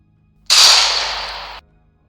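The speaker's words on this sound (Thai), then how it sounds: "ปืนในมือของไอ้โจ แผดเสียงขึ้นอีกนัด" A single gunshot rings out from a handgun as a sharp, loud blast that holds briefly and then fades over about a second, alone with no talk.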